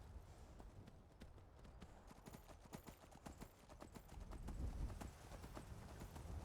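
A horse in Skyrim gallops with a rapid, rhythmic stream of hoof beats over a rumbling low background, steady and fairly close, with no speech.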